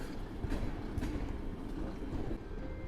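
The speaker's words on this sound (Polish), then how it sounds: "Spotkały się dwa pociągi z Białego Stoku albo do Białego Stoku." Two trains passing each other at Warszawa Zachodnia station in snowy weather, one bound to or from Białystok, making a steady close rumble of rolling railcars with faint wheel clatter and no talk.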